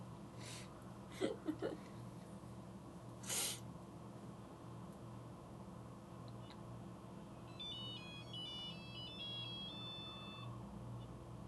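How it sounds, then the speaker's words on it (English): A Nokia ringtone plays a short tinkling melody of electronic beeps, faint in the room, preceded by a few knocks and thumps. "that's the best Nokia ringtone"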